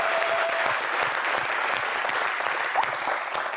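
Steady audience applause for a rapper at his concert, a dense and continuous patter of clapping that stays at an even level throughout.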